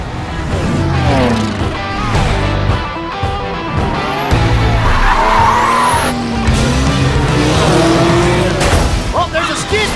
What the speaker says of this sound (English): Oh, there's a skid!